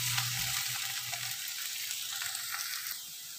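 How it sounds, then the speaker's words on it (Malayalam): Onion and crushed ginger-garlic sauté in a pan for egg Maggi, a dense steady hissing sizzle with faint stirring texture, close up and unbroken, easing slightly at the end. "ഇത് രണ്ടും കൂടെ നന്നായിട്ടൊന്ന് വഴണ്ടു വരട്ടെ"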